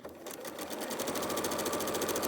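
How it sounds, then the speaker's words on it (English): A sewing machine runs steadily, stitching fabric strips for a quilt block at a 1/4 inch seam, with a fast even rhythmic whir close by and no talk over it. "and sew down the length of the strip. I'll sew down the length of the second strip,"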